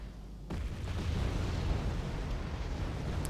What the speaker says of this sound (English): Now this is actual mortar fire, or artillery fire.